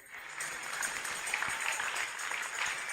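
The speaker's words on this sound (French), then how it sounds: "Applaudissez." A church congregation in Accra, Ghana claps together in sustained, dense applause that holds steady and fairly loud for the whole stretch, with no voices standing out.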